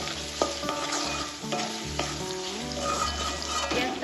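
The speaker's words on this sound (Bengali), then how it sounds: "পেঁয়াজটা তেলের সাথে হালকা ভেজে নেব।" Chopped onion sizzling in hot oil while being stirred in a pan, a steady fry crackle with repeated scraping stirs, close and alone.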